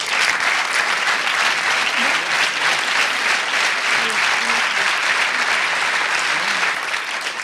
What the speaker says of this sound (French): Merci de l'applaudir, il arrive sur scène.